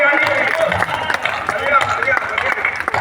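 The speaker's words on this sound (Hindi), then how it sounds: "तालियां बढ़िया" Audience applause for a comic poet at a hindi hasya kavi sammelan during the Chandrashekhar Azad birth celebration in Badarka, Unnao, a dense steady patter of claps filling the whole stretch, fairly loud, with scattered voices mixed in.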